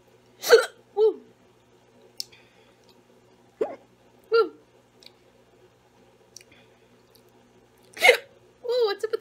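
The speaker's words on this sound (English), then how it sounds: "Hiccups." Short, sharp hiccups recur irregularly, about seven, close and fairly loud in a quiet room, with brief voiced gasps among them, from someone eating very spicy noodles.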